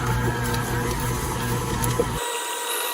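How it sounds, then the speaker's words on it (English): A stand mixer runs steadily on cheesecake batter, giving a loud, continuous motor whir with a rhythmic mechanical churn for about two seconds before it cuts off abruptly, leaving near silence. "now we're gonna mix this for like a minute until it gets combined and creamy"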